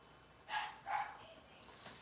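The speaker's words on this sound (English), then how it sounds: "Lord, the dogs are barking in yonder." Dogs bark in the distance outdoors, two short barks in quick succession that carry from some way off, followed by a faint trailing yelp, with no talking during them.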